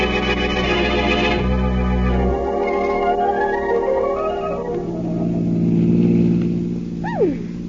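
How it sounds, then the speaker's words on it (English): Car driving as an old radio-drama sound effect: a continuous engine drone with shifting pitch as it accelerates and changes gear, fairly loud and close, ending with a brief rising squeal. "Nice afternoon for a ride, isn't it, Blackie? Yes, in a car."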